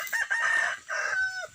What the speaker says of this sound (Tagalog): makita nyo ang ating alagang manok.